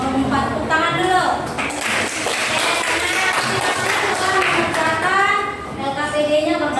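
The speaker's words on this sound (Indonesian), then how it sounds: "Tepuk tangan dulu" Students in a classroom applaud a presenting group, a steady broadband patter of clapping running through most of the stretch, with voices talking over and around it.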